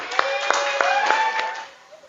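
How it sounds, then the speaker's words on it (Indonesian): In a classroom, a group claps in a quick, evenly spaced rhythm of about five sharp beats, nearby and moderately loud, with a faint voice tone underneath before it trails off. "Sekali lagi beri tepuk tangan untuk kelompok C."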